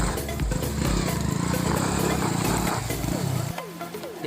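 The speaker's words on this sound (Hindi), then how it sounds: "ये बाइक देखिए आप" Motorbike engine running loudly and steadily while riding on a road in Mewat, with a dense rumble that eases off near the end.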